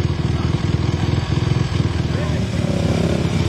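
Motorcycles, including a small Kawasaki, revving and pulling away on a rally day, a dense, loud, continuous engine drone close by, with someone talking over it.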